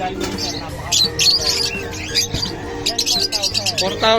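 Lutino Opaline hens, likely lovebirds, give repeated high chirps and calls in bursts, close by, with someone talking over them and other birds calling in the background.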